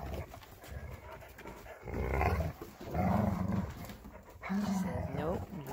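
Flat-coated retriever growling at a puppy in low, rumbling bursts, with panting and a short whimper between growls, close and fairly loud.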